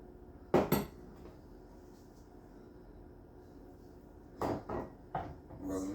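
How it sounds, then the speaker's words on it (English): Parmesan cheese mixed with onion powder, garlic powder and paprika in a bowl, a few quiet clinks and scrapes of a utensil against the dish in two short bursts separated by near silence. "we're going to mix it all together, stir it up"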